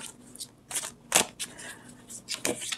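Tarot cards shuffled by hand before drawing another, giving several short, close riffling bursts separated by brief pauses.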